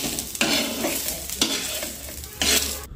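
Onion fries in a pan, hissing steadily while a spoon scrapes and stirs it in three distinct strokes, close and clear, with no voices.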